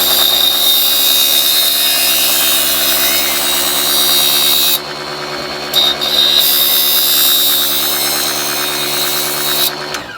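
A kitchen knife is sharpened against the grinding wheel of a mini table saw, producing a loud continuous high-pitched grinding hiss over the motor's hum, briefly dropping away midway as the blade lifts off.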